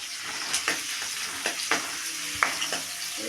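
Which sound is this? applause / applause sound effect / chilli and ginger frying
chilli and ginger frying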